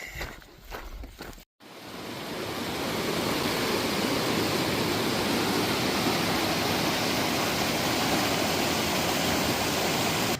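Walker River rushing past a damaged, twisted bridge in the Sierra Nevada, a loud continuous broadband roar that swells in after brief footsteps and a short cut, steady throughout.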